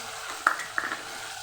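Spices (chutney, turmeric, coriander-cumin powder, garam masala) fry in a pan for Kathiyawadi mixed vegetables while being stirred: a low continuous sizzle with two quick metallic clinks of the spoon, close up.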